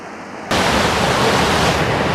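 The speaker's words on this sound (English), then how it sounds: "that waterfall there, it's strong as fuck and it's massive" A strong, massive waterfall at a camping spot bursts in after a brief quiet moment, then roars on as a loud, steady, close wash of rushing water with no voices.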